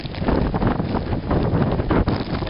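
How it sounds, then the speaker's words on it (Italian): Icy wind roars in gusts during a snowstorm in Castelvecchio in the Marche, a loud, constant rushing that buffets the microphone without letup, with no speech heard. "sentite qua il vento gelido"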